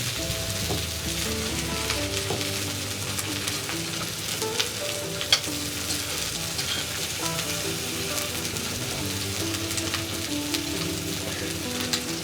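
Cod fillets pan-seared in butter and basted, a continuous crackling sizzle of hot fat with occasional spoon clinks against the frying pan, close and steady, no voices.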